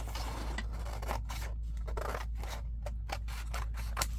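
Scissors snip through cardstock for junk journal cards in a series of crisp, close cuts with short pauses between them, heard alone without talk.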